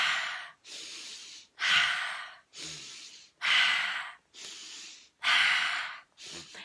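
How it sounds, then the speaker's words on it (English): Deep breaths are drawn in one after another in a slow, steady rhythm, each long airy inhale close and loud and separated by short pauses. "So we're breathing in."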